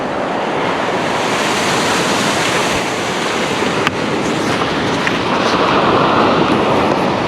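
Loud ocean surf and gusting wind at Kehoe Beach, Point Reyes, on a driftwood-strewn shore where a freshwater stream meets the sea, forming a dense, unbroken roar with a brief knock midway.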